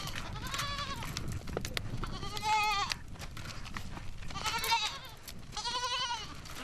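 Goats and their kids bleat repeatedly in a pen in the Gobi desert of Mongolia, four distinct bursts of close, wavering bleats over steady low farmyard noise.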